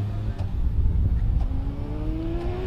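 A 600cc single seater hillclimb race car accelerates at Prescott, its engine rising in pitch as it pulls away under a commentator's voice.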